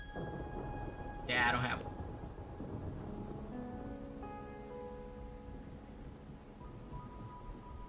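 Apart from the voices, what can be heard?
rain and thunder in the video game Kingdoms of Amalur: Re-Reckoning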